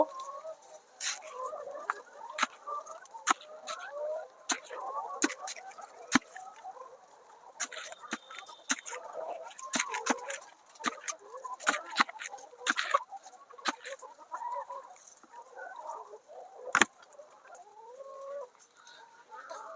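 Layer hens at a feeder cluck softly and continually while their beaks tap rapidly against the feed, a busy close patter of pecks under the murmuring calls.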